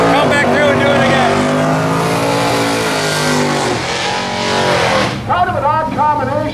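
Drag race car launching at the No Name Nationals drag event, a loud roaring engine with a rising, strained note and tire noise, close by and sustained before cutting off sharply, followed by shouting and chatter.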